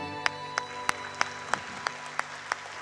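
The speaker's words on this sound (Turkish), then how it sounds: "Alkışlayalım mı?" An audience claps slowly and steadily in an even rhythm, with distinct, well-spaced claps over a low tonal hum, moderately faint throughout.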